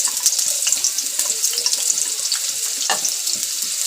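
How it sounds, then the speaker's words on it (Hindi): Sliced onion goes into half a cup of hot oil in a home kitchen pan and sizzles in a loud, steady, close-up hiss with faint crackles throughout. "ऑयल गर्म हो गया है, प्याज डाल देंगे"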